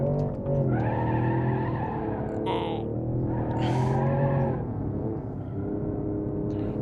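A BeamNG.drive video game car, an Ibishu Hopper XT-6 four-wheel drive, launching as the clutch is popped, its engine revving hard and steady with a wheel spinning and tires squealing briefly near the middle.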